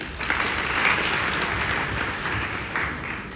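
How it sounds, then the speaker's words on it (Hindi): Schoolchildren applaud together in a steady burst of clapping that swells and holds for several seconds, loud and close, with no talk over it. "अपने लिए एक बार जोरदार तालियां जरूर बजाएं।"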